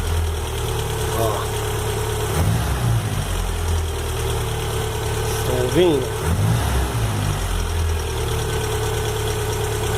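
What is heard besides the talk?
VW AP car engine ticking noise when warm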